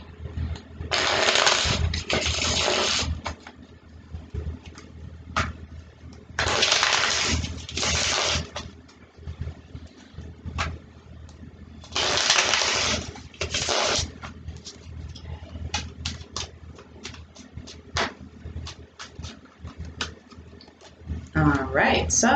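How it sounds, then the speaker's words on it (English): Native American tarot cards being shuffled by hand in bursts of dense riffling and slapping, three main rounds with lighter taps between, close up and fairly loud, with no talking. "So let me shuffle them first."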